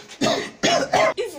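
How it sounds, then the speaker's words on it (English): A person coughs three or four times in quick, harsh bursts, loud and close, the last cough softer than the others. "it's just cough"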